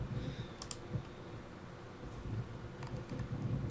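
Computer keyboard typing and mouse clicks while formatting a note template in Evernote 10, a close, quick, uneven patter of keys with a few sharper clicks, fairly quiet and with no talking.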